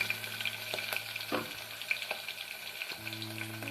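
Green chillies and cashews frying in a pan for venpongal, with a soft, quiet sizzle and occasional scraping stirs and light clinks under a low steady hum.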